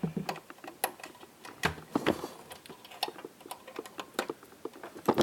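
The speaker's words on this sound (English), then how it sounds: "Put the fuses, plastic covers back on." Plastic fuse covers snap back into place on a Hughes & Kettner Switchblade 50 combo guitar amp: a scatter of small, sharp clicks and light plastic taps, close and quiet, in an irregular run.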